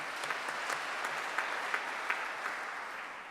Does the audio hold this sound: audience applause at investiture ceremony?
yes